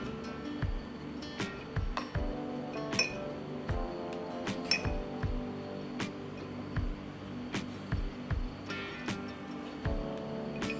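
Apricots are laid one by one into clean sterilised glass jars, giving a steady series of sharp glassy clinks and soft knocks at close range, with no talking.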